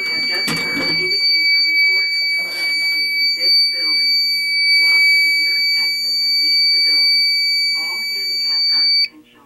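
A fire alarm sounds during a home alarm system test, a steady, piercing electronic tone held for about nine seconds before cutting off, while a recorded voice makes an announcement over it.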